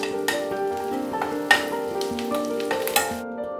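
Chopped garlic sautéing in a pan for pav bhaji, giving a steady close sizzle and frying crackle with a couple of sharp stirring clinks, no talking.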